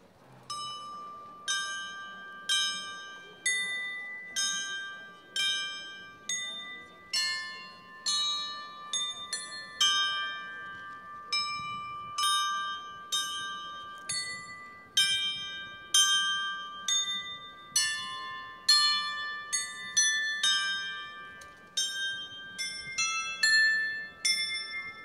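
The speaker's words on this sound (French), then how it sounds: "Ce carillon a été offert à la procession par la ville de Mons en 2000." Carillon of bells carried in the historic Car d'Or procession of Sainte Waudru in Mons, ringing a steady melodic sequence of bright struck notes at moderate distance, with faint crowd ambience beneath and no speech.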